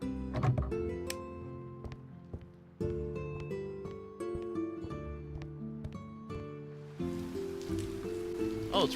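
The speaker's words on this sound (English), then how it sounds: "Oh, it's raining." Rain falls in a cozy tavern-management video game, a soft steady wash of drops that rises toward the end over layered game music and tonal effects.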